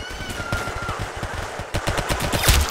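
Rapid automatic gunfire in the Roblox game Arsenal rattles along in a steady, dense stream of shots, loud and close, with no talk over it.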